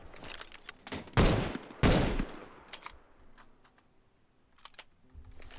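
Rapid gunfire from a new weapon in the game CS:GO after a September 2016 sound update, with two loud, heavy blasts followed by sharp clicks and metallic mechanical ticks at a lower level.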